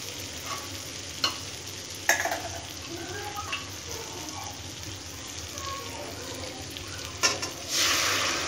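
A pan sizzles steadily while lentils are stirred into softened onion and tomato, with a few sharp clinks of a utensil against the pan and a louder hiss near the end.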